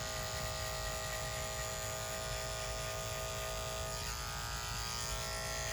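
Hair clippers fitted with a detachable 5-0 blade run continuously while cutting hair, a close, even electric buzz with a faint change in tone as the blade moves through the hair.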